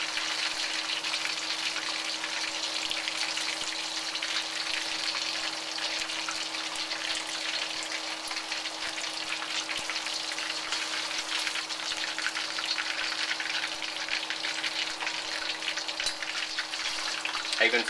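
Calamari deep-frying in hot oil gives a continuous, even sizzle and bubbling hiss that holds steady from start to finish, with no voices over it.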